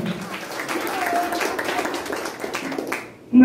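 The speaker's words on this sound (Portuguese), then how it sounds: "Uma salva de palmas para todas as guias dessa casa." A round of applause at a religious house ceremony for saints and orixás, with a steady wash of clapping from a group heard under a voice speaking, fading before a brief louder tone at the end.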